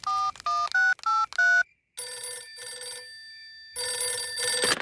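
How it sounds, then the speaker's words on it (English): A telephone dials a quick run of six beeping tones, then rings in repeated electronic trills after a brief pause, clear and close with no talk. "we'd better phone the king"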